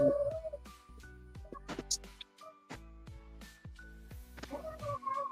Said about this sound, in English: these fucking cats